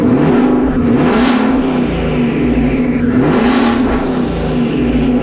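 A twin-turbo Mustang GT engine roars loud and close, surging through two strong revs over a rough, steady idle, with no talking.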